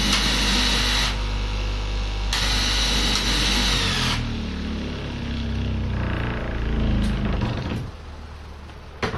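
Power machinery whirs loudly and steadily while fabric pieces for ankle-fit leggings are cut at a garment workshop, the motor dipping and surging in pitch before cutting off near the end.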